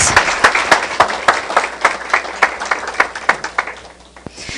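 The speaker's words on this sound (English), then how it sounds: "Give this man a big round of applause" Applause from a lunch-and-learn audience of young professionals, with distinct sharp claps standing out over a dense wash of clapping that holds steady for several seconds, then thins and fades near the end.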